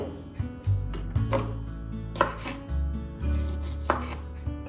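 A knife chops cherries on a cutting board with a series of sharp, close, uneven knocks, several strokes spaced a moment apart with quiet gaps between them.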